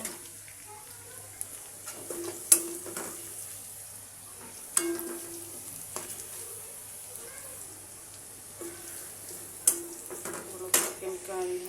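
Food fries in a pan while being stirred for a home-cooked chicken curry: a soft, steady sizzle broken by several sharp metallic clinks and scrapes of the spoon against the pan.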